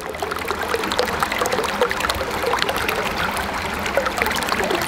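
Water flows continuously into a winter watering line as a steady, close trickling rush that never pauses, with no talk.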